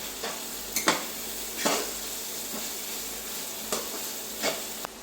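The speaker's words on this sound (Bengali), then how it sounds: "আদা রসুনের কাঁচা গন্ধটা না যাওয়া পর্যন্ত ভাজবো।" Ginger and garlic paste frying in a pot for a country chicken curry, a steady soft sizzle broken by several sharp scrapes and stirs of a spoon against the metal, close and alone.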